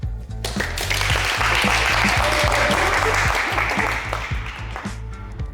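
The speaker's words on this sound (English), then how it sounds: "Look at my audience. Amazing. Applause." An audience applauds on the set of a glaziers' reality show in Brazil, a loud, dense burst of clapping for several seconds over a thumping low rhythmic backing beat.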